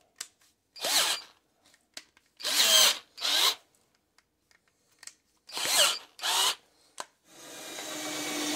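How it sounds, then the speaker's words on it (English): A power drill grinds into the head of a fastener in short, separate bursts, each a few seconds long with quiet gaps between, and a steady hum of noise builds near the end. "I think I'm just going to drill this whole head of this thing off."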